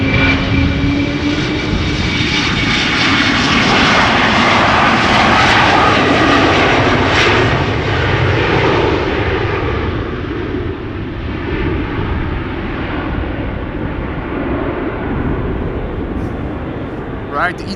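An Embraer E2 airliner bound for Birmingham passes at Schiphol Airport, a loud, broad engine roar that holds steady and then slowly eases as it moves off.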